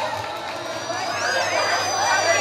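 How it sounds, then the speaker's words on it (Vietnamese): Crowd noise at a mid-autumn festival evening, a swelling bed of cheering and babble that grows slightly louder over a couple of seconds, with a low hum underneath. "cho một tràng pháo tay ạ"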